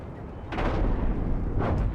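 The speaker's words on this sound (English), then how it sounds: "Whoa, deck cannon salute." Deck cannons fire a salute in the space ship game Cosmoteer, two deep booming blasts about a second apart over a rumbling low background, with no talking.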